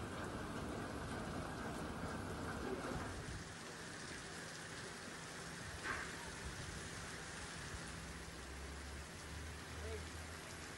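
Steady rain pours down evenly onto roads in Amreli district, Gujarat, a dense continuous hiss of drops on the ground that stays constant from start to finish.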